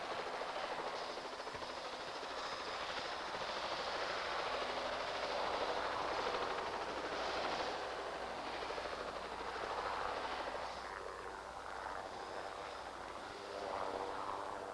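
A helicopter flies over the Arctic tundra, its rotor beat a continuous throbbing drone with a rhythmic chop, heard from inside or close by at moderate level throughout, swelling slightly and easing.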